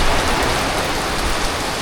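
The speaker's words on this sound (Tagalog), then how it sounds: "Tara, ligo tayo ulan." Rain falls outdoors near a river as a dense, loud, steady hiss that fills the whole moment without any break or voices.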